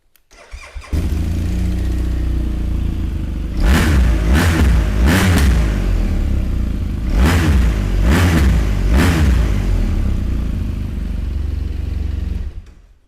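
A BMW R1200RS boxer twin motorcycle engine cranks and fires, settles into a close, loud, throbbing idle, then is blipped in two pairs of sharp revs before dropping back and cutting off.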